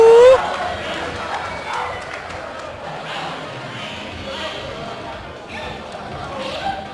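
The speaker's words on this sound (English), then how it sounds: "You can hear the crowd." Crowd at a Super Street Fighter II Turbo fighting game tournament, EVO 2012 top 8, cheering and shouting in a sustained roar, with a commentator talking over it throughout.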